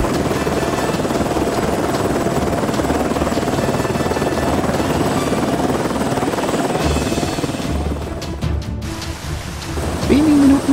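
Heavy, steady rain hisses under a continuous rumbling engine drone, with a brief gust of louder noise near the end.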